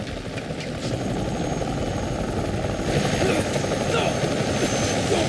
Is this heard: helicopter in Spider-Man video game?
yes